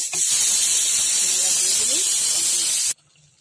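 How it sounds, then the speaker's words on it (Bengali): Vinegar poured into a hot mango pickle mixture in a pan sets off a loud, steady hiss of steam that lasts about three seconds and then cuts off sharply into near silence. "এখন আমি ভিনেগার দিয়ে দেবো।"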